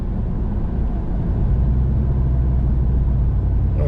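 The engine of a freshly repaired pickup truck runs with a steady, loud low rumble and a constant idle drone, with no knocks or rattles.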